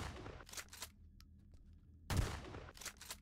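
Shotgun blasts in the Zombie Invasion game, a few sharp booming shots spaced apart, loud against a quiet background.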